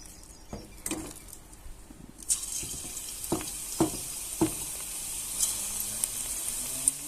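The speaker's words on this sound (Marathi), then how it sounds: "तेल पण गरम झाले तर चला आता आपण आळूची भजी काढून घेऊया" Taro leaf fritters (aluchi bhaji) dropped one by one into hot oil in a kadhai, giving a steady sizzle with sharp spatters and clinks as each piece goes in.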